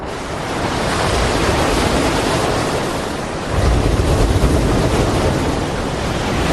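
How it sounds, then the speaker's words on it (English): Huge ocean waves crash onto a Brazilian coast at low tide, a loud, continuous roar of surf with wind buffeting, swelling into a heavier surge near the end. "At low tide, huge waves crash onto the coast."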